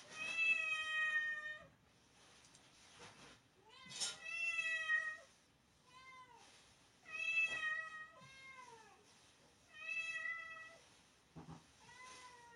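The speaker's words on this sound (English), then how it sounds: "You're meowing because you think what's in the bag is for you" A cat meows repeatedly and loudly up close, about six drawn-out, tonal calls spaced by short pauses, some rising and falling in pitch, alone without talk.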